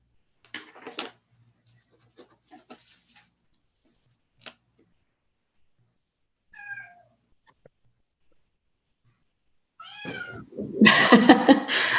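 A cat meows several times: a few short, faint calls early on, then a louder, drawn-out meow near the end, with a brief quiet voice in between.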